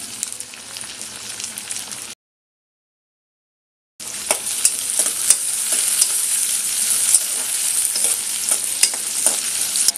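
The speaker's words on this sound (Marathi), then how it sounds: "टोमॅटो घालूया," Onion and tomato frying in a pan for Malvani egg masala, a steady close sizzle with light stirring scrapes throughout, broken by a silent gap of about two seconds near the start.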